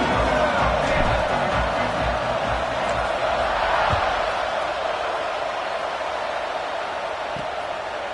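Football stadium crowd before a kickoff, a steady broad roar of many voices at fairly constant loudness throughout, with occasional brief whoops rising out of the din.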